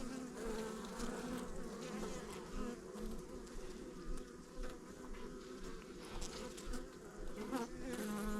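Dense buzzing of honey bees at a hive, some carrying yellow pollen on their legs, fills the whole stretch with a steady, close drone and shifting wingbeat tones, with no talking.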